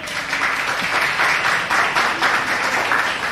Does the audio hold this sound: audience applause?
yes